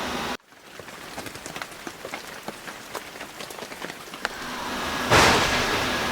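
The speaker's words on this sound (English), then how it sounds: "It's still raining, but it's not as hard as it was" Steady rain falls outside, a continuous hiss broken by scattered drips and taps that swells louder near the end.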